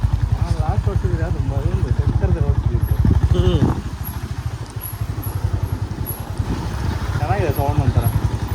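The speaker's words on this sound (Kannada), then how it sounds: "ಚೆನ್ನಾಗಿದೆ ಸೌಂಡ್ ಒಂಥರ ಸೇಮ್ ಬುಲೆಟೇ ಮಚ್ಚ" A motorcycle with a Royal Enfield Bullet–like thump rumbles steadily while being ridden, its low pulsing engine loud and close with wind buffeting, and people talk over it.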